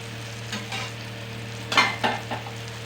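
Bombil fish, or Bombay duck, fries in a pan, making a close crackling sizzle. A few louder bursts of spattering and stirring come through over a steady low hum.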